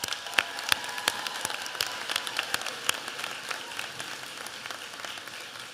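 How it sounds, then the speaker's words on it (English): An audience at a nursing pinning ceremony gives steady applause for the nursing faculty, a dense patter of many hands clapping at moderate volume that continues throughout. "Please give these educators another round of applause."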